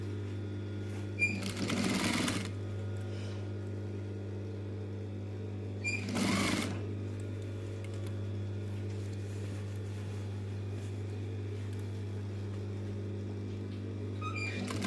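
Sewing machine stitching the lace-edged corner of a fabric table runner, two short bursts of running stitches over a steady low motor hum, close and moderately loud with no talk.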